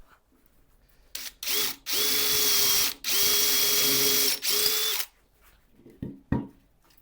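A power drill with an 8mm bit bores into a sequoia wood block on a lathe in three long bursts with brief stops between, steady high whine close by, followed by a few clicks and knocks.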